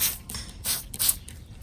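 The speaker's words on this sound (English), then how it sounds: "Here I'm using it as a foliar spray on a badly afflicted purple serrano." Foliar spray of an organic calcium-magnesium supplement misted onto a purple serrano pepper plant, heard as three or four soft, quick hissing spritzes, faint and close.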